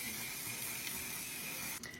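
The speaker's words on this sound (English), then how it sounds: "Hit it with your One Size Until Dawn spray." One Size Until Dawn setting spray misted over a finished makeup look, a steady, soft, airy hiss held for about two seconds, then cutting off abruptly near the end.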